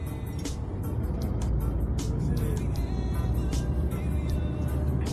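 A manual car drives along in third gear during a beginner driving lesson, with a steady close engine and road drone and faint ticking clicks over it.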